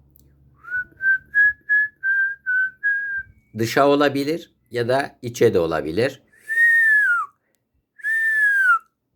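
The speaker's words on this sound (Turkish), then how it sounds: "ıslık çalacağım." A series of short, clear whistled notes in a steady rhythm during a speech therapy exercise, then someone speaks briefly, followed by two longer falling whistles.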